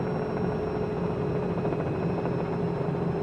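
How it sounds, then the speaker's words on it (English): A simulated helicopter in Microsoft Flight Simulator 2020 descends onto a helipad, producing a steady, loud rotor and turbine drone throughout with no talk. "Come down here onto the helipad."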